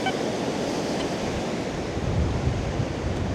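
Ocean surf washes steadily onto wet sand at the beach, a broad continuous rushing roar with mild wind buffeting the microphone and a few faint beeps underneath.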